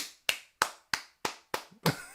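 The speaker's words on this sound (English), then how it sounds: "let's clap for that one" Six sharp hand claps in a slow, even rhythm, close and crisp, each one fading quickly before the next, with no one talking.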